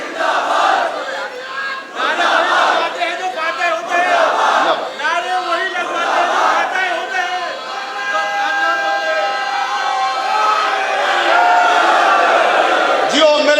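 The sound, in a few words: crowd chanting Haider Haider slogans in a hall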